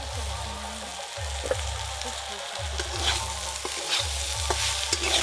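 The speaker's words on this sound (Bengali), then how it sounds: "বটবটি আলু হালকা করে ভেজে নিয়েছি, এবার পেঁয়াজ আর কাঁচা লঙ্কা দিয়ে দেবো।" Potatoes and long beans fry with onion and green chilli in a pan, a continuous loud sizzle broken by repeated scraping stirs and spatula knocks every second or so, with no talk.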